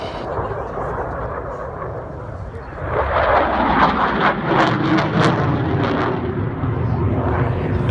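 A SAAB Gripen fighter jet performs at an air show, its engine a loud, broad roar that swells and builds midway through, with a commentator talking over it.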